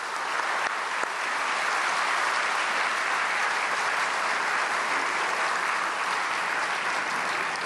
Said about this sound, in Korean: 나오실 때 큰 박수로 맞이해 주시겠습니다.